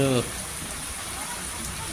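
Moderate rain falling after a spell of intense heat, an even, unbroken hiss of drops on surfaces that follows a brief voice at the very start and continues steadily.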